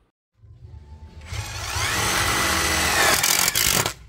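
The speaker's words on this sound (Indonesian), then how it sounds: "Sekarang kita akan menggunakan sekrup self drilling seperti ini untuk medianya adalah siku besi dengan ketebalan 4 mm." A cordless impact driver sinks a self-drilling screw into 4 mm thick steel angle, rising from a low motor whir into a loud, sustained rattling hammer for about three seconds before it stops abruptly.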